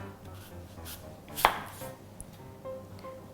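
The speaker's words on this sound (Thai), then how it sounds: "แล้วเราก็จะนำมาหั่นกัน พอเริ่มจากแอปเปิลนะคะ" A single loud knife chop through an apple against a cutting board, followed by a few quieter cuts and faint knocks.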